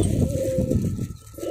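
A pigeon cooing close by, a soft, low, throaty coo that dips briefly and then resumes within a moment, with no other voices.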